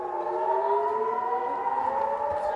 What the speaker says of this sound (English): Across northern Israel, sirens wailed and rockets fell.